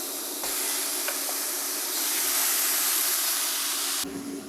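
Ground beef is tossed into a hot pan for sloppy joes and sets off a loud, steady hiss of sizzling fat that holds unbroken for several seconds before cutting off abruptly.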